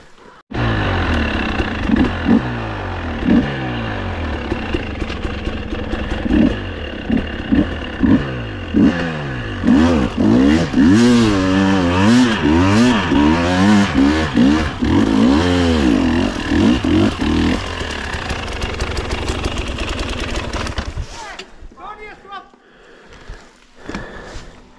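An enduro motorcycle engine revs hard on a trail ride, the pitch rising and falling in repeated throttle bursts, close and loud, before cutting off near the end.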